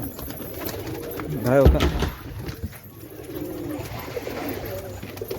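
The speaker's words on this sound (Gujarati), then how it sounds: "કબૂતર જુઓ કેવા તરસા થઈ ગયા." Pigeons coo softly through a steady background while drinking water, with a sharp knock partway through and a voice speaking now and then.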